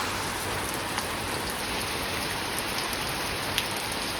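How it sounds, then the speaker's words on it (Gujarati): Steady rain falls on a village near Botad, a dense, even hiss with scattered close drips and no voices. "પોણી કલાકથી ચાલુ છે હવે વરસાદ"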